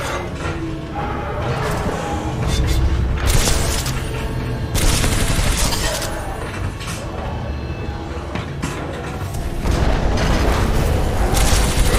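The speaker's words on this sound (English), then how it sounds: "a series of explosions just weakened the manipulator arm" A rapid series of explosions in a video game, heavy booming blasts with crackling gunfire-like bursts, loud and continuous with several surges in intensity.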